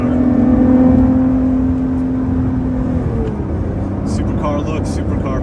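A 2017 Lotus Evora 400 with an optional titanium exhaust, heard from the passenger seat on a road drive: a loud, steady engine drone at higher revs that eases off after about three seconds, leaving road and cabin noise.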